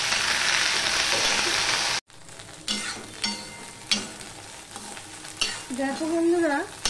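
Okra (bhindi) frying in a pan: a loud, even sizzle that cuts off abruptly, followed by a series of scraping and clattering stirring sounds with a quieter hiss underneath, close up with no talk.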